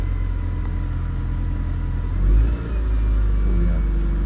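A car engine revs and surges under acceleration, a steady low rumble swelling briefly louder midway, heard close up at a new automatic car with no talk over it.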